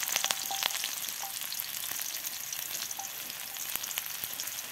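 Garlic chives sizzle and crackle steadily in a hot pan while being stirred, with occasional scraping clicks from the utensil, close and continuous with no talking.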